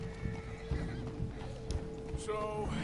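A horse in the video game Red Dead Redemption 2 gives a whinny amid clip-clopping hooves and game ambience, with voices talking over it at a moderate level.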